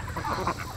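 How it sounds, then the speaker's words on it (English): A goose honks a couple of short nasal calls among ducks on wet, rain-soaked ground, close and fairly loud, in a brief burst without talk. "Look at all the ducks and geese."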